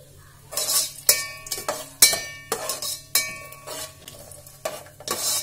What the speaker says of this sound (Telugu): వీటన్నిటిని ఇలా ఫ్రై చేసుకోవాలి.